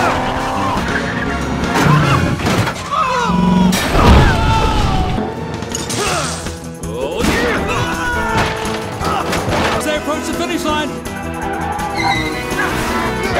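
Animated race cars in Cars 2 tearing around a race track, loud engine roars with tire squeals, skids and crash-like booms over dramatic score, busy and close throughout.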